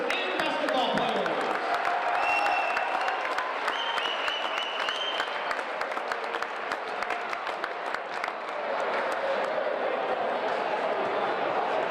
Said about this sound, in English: Let's give one more big round of applause for all of our senior cheerleaders and basketball players.